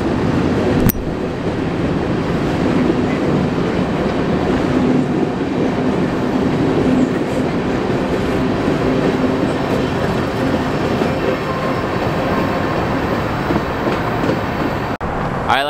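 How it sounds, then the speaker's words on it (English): A mixed freight train rolls through the Amtrak station in Toledo, Ohio, with a loud, continuous rumbling roar and rail clatter, close by and unbroken for the whole stretch, with no talking. "We got a mixed freight going through now."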